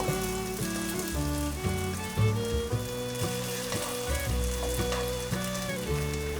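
Taro pieces fry in oil in a flat pan over medium-low heat, giving a steady soft sizzle that runs under loud, continuous background music.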